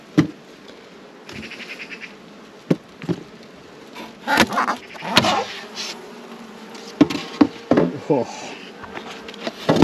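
Honey bees buzzing around an open hive of full nucs, a faint continuous drone broken by close knocks and wooden frame clatter, with a brief exclamation from a person.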